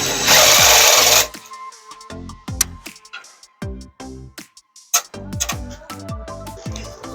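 A unibit step drill bit is used to bore a larger hole for a countersunk bolt head. One long, loud spin is followed by a run of short, stuttering bursts of the motor whining up and dropping off.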